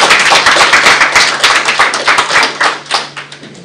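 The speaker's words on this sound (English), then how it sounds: "Some claps for the team." Audience hands clapping at a report launch on the Kenyan apparel and footwear industry, a steady dense round of applause lasting several seconds, close and fairly loud with no talk over it.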